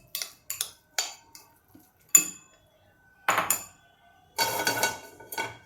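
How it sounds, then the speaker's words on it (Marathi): A spoon clinks and scrapes against a bowl as crisp nachos are tossed with red chili flakes. The sound comes in short, sharp bursts separated by silent gaps. "आता याला मस्त हलवून घ्यायचं"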